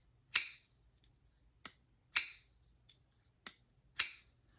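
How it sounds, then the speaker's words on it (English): A Comet mechanism gives about six sharp, close clicks at irregular intervals, each with a brief metallic ring, and a few fainter ticks fall between them. No one talks. "Just a kind of a click when it drops home."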